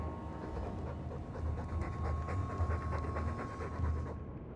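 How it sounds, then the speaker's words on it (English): Rhythmic panting of a dog in the Dragon Age 2 video game, a fast, even chain of breathy huffs heard up close over a low rumbling background, fading out at the very end. "All that noisy dog breath, day in, day out, make him stop."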